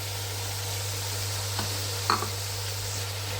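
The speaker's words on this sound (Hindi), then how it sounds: "अब मैं इसमें डालूँगी टमाटर, और टमाटर डाल के उसको अच्छी तरह भूनूंगी" Tomatoes frying in a pan, a steady soft sizzle with a couple of brief stirring scrapes, close and moderately quiet over a constant low hum, no talking.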